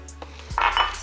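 Ceramic mugs from Dollar Tree clink and rattle against each other as they are handled, a few close, bright knocks with no talk over them.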